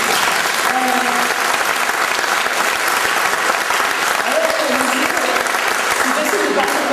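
Audience at a comedy festival show applauds the comedian's parents seated in the hall, a loud, dense, steady clapping that fills the room for several seconds with faint voices mixed in.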